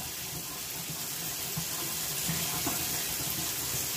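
Water runs from a kitchen tap as a steady, fairly soft hiss that carries on evenly, with no talking.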